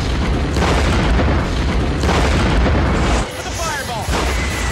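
Explosion fireball in the combat flight game DCS World, a loud rumbling boom sustained for a few seconds, then fading with a lighter whistling tail, a voice talking over it.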